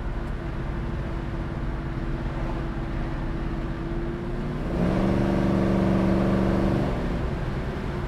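A 1965 Ford Mustang accelerates on the road from inside the car, a steady low engine drone that rises and firms up partway through as it gains speed, moderately loud with no talk.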